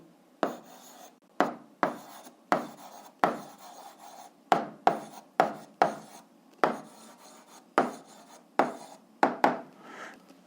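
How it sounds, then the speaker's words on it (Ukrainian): A pen scratches out an algebra answer on paper in a series of short, close strokes, about fifteen brisk rasps with brief pauses between them and no speech over them. "записуємо відповідь, пишемо відповідь."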